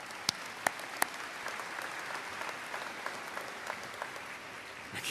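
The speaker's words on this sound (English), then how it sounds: "Give yourself a round of applause." A commencement audience of graduates and families at a 2018 KCC ceremony claps, a fairly distant, even wash of applause with a few sharper single claps standing out near the start.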